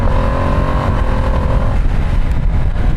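A Ducati Streetfighter V2 S motorcycle accelerating hard, its engine note climbing steadily with a quick-shifter gear change partway through, loud and close with continuous engine and wind roar and no talk.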